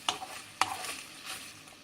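Onions sizzle in a hot pan while a utensil scrapes and stirs twice, brief and close.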